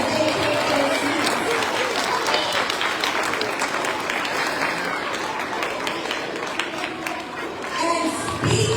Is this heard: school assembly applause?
yes